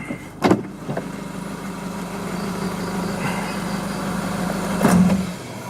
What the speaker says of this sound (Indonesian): mesin sudah saya matikan